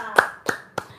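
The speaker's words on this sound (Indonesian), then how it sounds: "tepuk tangan dong" Three sharp hand claps, evenly spaced, loud and close, with nothing else around them.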